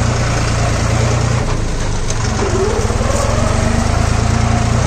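A Deutz-Fahr Agrolux 50 turbo diesel tractor runs close by, its engine a steady loud chugging idle with a throbbing low rumble and no speech over it.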